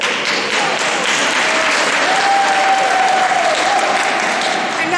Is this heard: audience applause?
yes